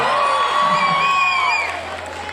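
Concert audience applauding and cheering loudly with whoops from the crowd, fading slightly toward the end, no clear speech.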